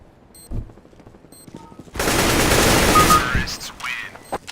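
Gunfire in Counter-Strike: Global Offensive, a few sharp isolated shots followed by a dense loud burst of rapid fire lasting over a second, then scattered clicks and effects.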